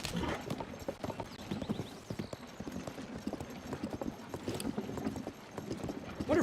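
Hooves clip-clop steadily from a horse ridden in the video game Zelda Tears of the Kingdom, a continuous rhythmic trot with a low game soundscape underneath.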